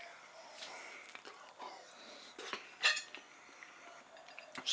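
A knife slices the side off a ripe mango with soft, quiet scrapes and light clinks of metal, ending in a brief sharper cut, all close and faint.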